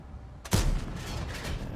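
A single heavy cannon shot from an Strv 103B tank in a video game bursts out sharply with a deep boom, followed by a rumbling decay that lingers to the end.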